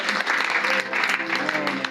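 A church congregation applauding and cheering during a French-language sermon, dense steady clapping mixed with shouting voices, loud and close for the whole two seconds.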